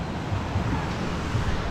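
Steady wind gusts and rolling surf wash together at a front-beach campsite in Zambales, a continuous broadband roar with no voices.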